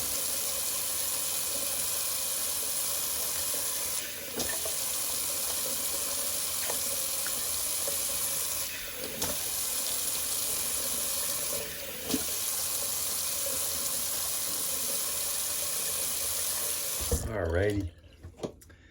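Cold water runs steadily from a sink tap for a long stretch, a close, constant rushing stream with a few brief interruptions, ending with a short clatter and shutoff.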